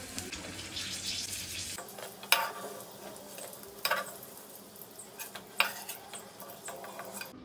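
Onions and chillies frying in oil for a shrimp bharta dish, a soft steady sizzle with a louder burst early on, then quieter frying broken by a few sharp stirring scrapes and clinks of a spatula against the pan.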